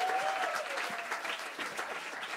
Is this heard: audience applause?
yes